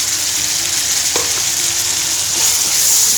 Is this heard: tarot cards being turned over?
no